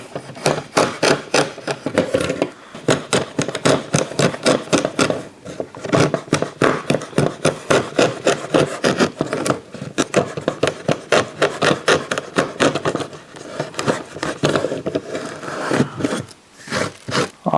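A brass-nut-adjusted budget router plane shaves away wood in a steady run of dense, rasping strokes, close and fairly loud, with only brief pauses.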